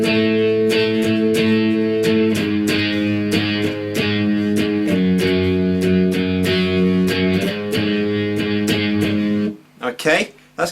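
Semi-distorted electric guitar picking simple octave shapes for a song, in a steady repeating rhythm with each note clearly picked, loud and close, then stopping near the end.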